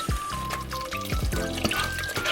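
Water poured into a sweet rice flour mixture, a short close gurgling pour with bubbly trickles and small splashes over about two seconds.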